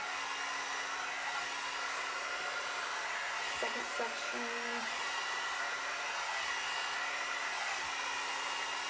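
A hair dryer blows with a steady, loud whooshing roar, while a voice speaks briefly underneath.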